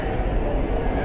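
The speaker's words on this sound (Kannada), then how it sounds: "ಮೆಟ್ರೋ ಹೊಂಟತ್ ನೋಡ್ರಿ" A metro train pulls away with a steady, dense rumble and rushing noise, close by and continuous through the brief moment.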